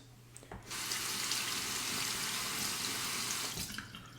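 A bathroom tap runs steadily into a sink for about three seconds while a razor is rinsed, with short clicks as the flow starts and stops, and no voices.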